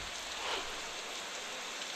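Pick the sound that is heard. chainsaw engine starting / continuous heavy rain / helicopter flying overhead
continuous heavy rain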